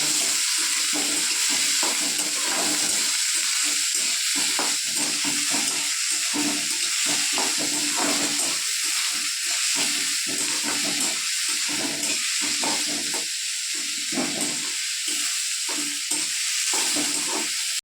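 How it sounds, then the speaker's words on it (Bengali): Onions and green chillies fry in oil in a pan, a continuous loud sizzle broken by frequent scraping stirs of a spatula, close up with no talking. "এটা এখন একটু আমি কিছুক্ষণ নাড়িয়ে নেব নাড়িয়ে একটু ভালো ভাজা করে নেব"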